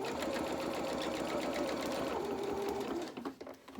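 A sewing machine stitches fabric for a reversible winter cape, running loud and continuous before slowing and stopping near the end.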